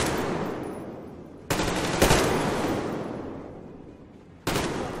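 A pistol fires in Metro Exodus. Each sharp, loud crack is followed by a long reverberant tail that slowly fades, as if in an enclosed space. There are a few shots with uneven spacing: two close together, then one after a longer pause.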